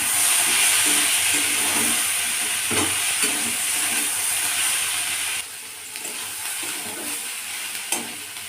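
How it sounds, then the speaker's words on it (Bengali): Vegetables frying in a pan with salt and turmeric while being stirred, a steady bright sizzle with soft scraping stirs throughout, dropping a little quieter partway through. "এবার এটা ভালো করে ভেজে নিতে হবে"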